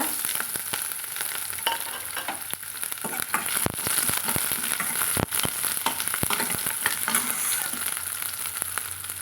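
Shallots and garlic fry in hot oil with popped mustard seeds for a country-chicken egg curry, a close, steady crackling sizzle with occasional stirring scrapes and sharp pops throughout.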